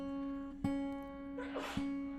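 A single sneeze bursts out over a steady electrical hum in a room, brief and moderately close.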